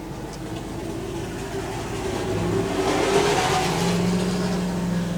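Pro Modified drag race cars idle and rev on a West Coast track, a broad engine roar that builds louder midway and holds, heard at a distance with crowd ambience and no voices.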